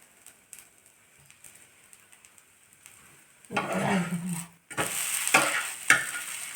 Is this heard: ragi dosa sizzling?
yes